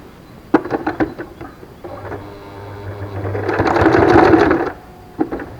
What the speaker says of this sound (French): Et après on va coudre jusqu'en bas.